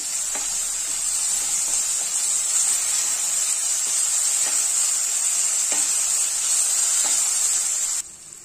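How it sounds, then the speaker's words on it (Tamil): Onions with a tablespoon of ginger-garlic paste fry in oil for vegetable biryani, a loud, steady hissing sizzle close by with faint intermittent taps of stirring, cutting off abruptly near the end; no one speaks. "இந்த வெங்காயம் எல்லாம் நல்லா வதங்கிடுச்சு"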